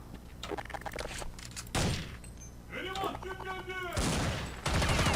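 AWP sniper rifle shots in a Jailbreak-mode video game: a few sharp, loud gunshot bursts spaced a second or two apart, with voices talking over the game audio.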